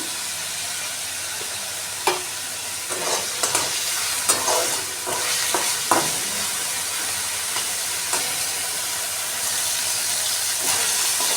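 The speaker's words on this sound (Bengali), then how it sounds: "চিকেনটা ফ্রাই হয়ে গেছে।" Chicken mince marinated in soy sauce, ginger and garlic paste fries in oil for Chinese-style pasta, giving a steady hissing sizzle broken by repeated scraping stirs and clicks of the utensil, with no talking.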